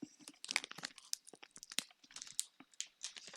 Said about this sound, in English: Sorry if you hear crunching.